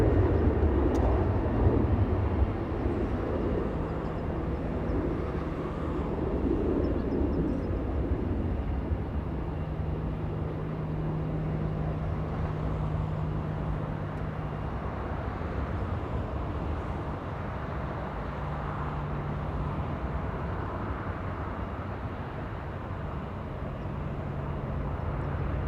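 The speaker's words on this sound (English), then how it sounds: "Joshua zooms in to a 747 flying to South Korea" Boeing 747-8 airliner flying out of Los Angeles International Airport, a distant low rumbling jet roar that holds steady and soft throughout, with faint background noise and no talking.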